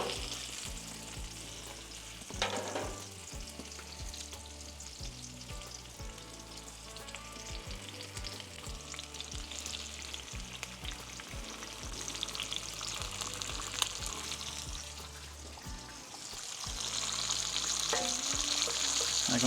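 Thin Kirkland bacon frying over an open flame for donair burgers, giving a steady, continuous sizzle that runs the whole time and grows slightly fuller toward the end, with no voices.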